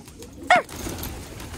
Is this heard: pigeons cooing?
yes